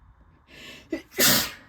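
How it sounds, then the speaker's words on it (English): A loud sneeze stands alone: a short sharp intake of breath, then a forceful burst of air, close by. "I'm gonna sneeze again."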